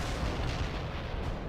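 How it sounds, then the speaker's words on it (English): Artillery barrage in the real-time strategy game World in Conflict, a dense, continuous low rumble of distant shelling with steady booms filling the whole stretch, no voices over it. "Artillery strike on the way."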